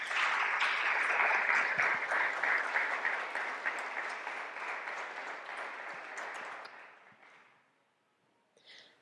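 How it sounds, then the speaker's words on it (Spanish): An audience at an evening talk on suicide applauds a guest speaker, a full, steady round of clapping that thins and fades out over several seconds before a brief bit of sound at the end. "Vamos a darle un aplauso a Fernanda Rojas."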